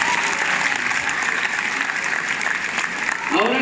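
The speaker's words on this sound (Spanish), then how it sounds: "fuerte el aplauso para ustedes" Loud, dense applause from a conference audience fills the room steadily, with a brief voice rising near the end.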